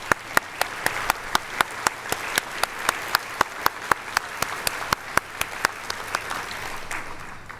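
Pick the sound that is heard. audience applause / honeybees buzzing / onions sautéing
audience applause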